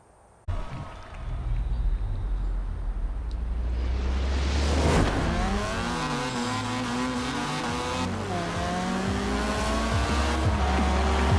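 A Mazda RX3 in Forza Horizon 4 launches off the line, its engine snapping to a loud revving roar that climbs through gear changes with rising and falling pitch sweeps, alone without talk.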